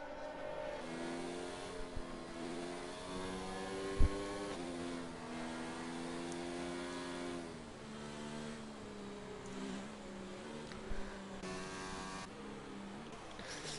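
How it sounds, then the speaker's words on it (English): Racing cars weaving to heat their tyres, a continuous engine drone with rising and falling revs from several cars close together, heard at a moderate distance, with a brief thump partway through. "Drivers heating their tyres, getting very close to one another."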